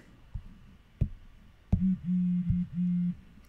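A phone in the mobile game World Zombination gives a steady electronic tone in repeated even pulses after a few soft taps, clear and close with no talking.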